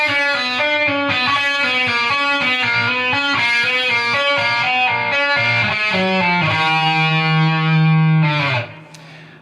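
A distorted electric guitar plays a fast legato run from a solo, with a dense stream of notes under effects and reverb, settling into a held sustained note before cutting off abruptly.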